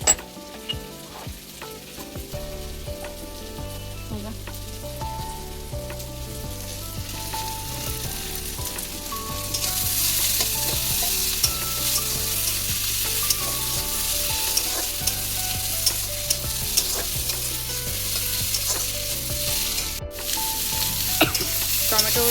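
Green chillies and ginger garlic paste sizzle steadily in a hot pan, with the frying growing brighter partway through and occasional utensil clinks and stirring.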